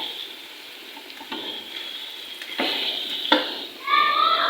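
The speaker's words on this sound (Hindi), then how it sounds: "अभी इसको अच्छे से फ्राई कर लूँ" Chicken for nihari fries in a pot, its sizzle swelling in steps as a few distinct scraping stirs land, growing louder toward the end over a faint steady hiss.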